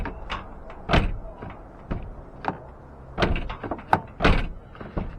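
A 2018 Mazda 3 door, freshly refitted after frame pulling on the wrecked car, shuts several times in a quiet shop with a series of close, solid thunks spread evenly across the clip.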